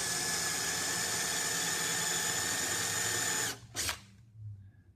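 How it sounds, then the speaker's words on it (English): A drill press bores holes in wood, a loud steady whine held for several seconds before abruptly cutting off, followed by a brief clatter and faint handling sounds. "And start drilling."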